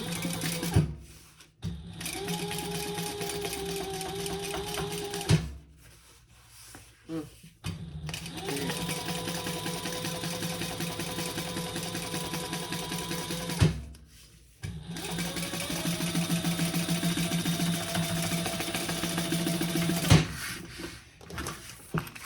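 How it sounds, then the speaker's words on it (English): A sewing machine top stitches a crossbody bag, whirring steadily in three long runs separated by short pauses, loud and close. "Now we're going to turn that over and top stitch."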